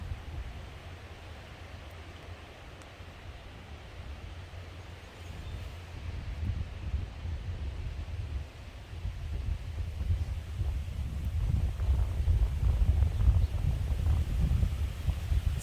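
Wind gusting through a backyard flower garden in June, a steady broadband rush with low rumbling buffeting on the microphone that builds louder toward the end, with no voices.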